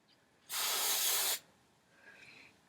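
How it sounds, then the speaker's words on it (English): Hairspray jets from a can in one close, steady hiss lasting just under a second, then stops, leaving quiet room tone. "Put hairspray in my hands"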